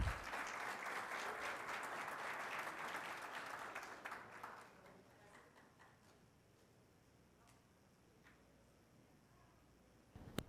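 Audience applauds at a mining-industry panel event in Ecuador, dense clapping filling the first four seconds and then thinning to a few scattered claps before fading into quiet room noise.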